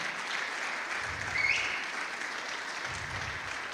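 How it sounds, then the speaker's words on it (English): Sustained audience applause for the organizers at the final of a PSA squash tournament, the Namibian Open 2025, an even roar of clapping from a large crowd that holds steady across the moment. "Can you give another round of applause to Mr. Stephen Berry and the team?"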